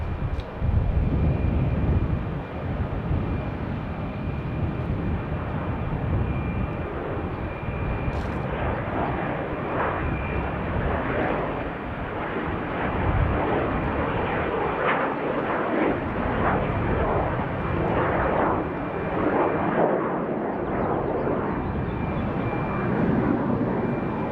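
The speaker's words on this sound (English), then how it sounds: "Oh, is that a Honda jet?" A HondaJet passes at an airport, a broad jet roar that holds steady and loud for the whole stretch, with faint swells as it moves along, alone without talk.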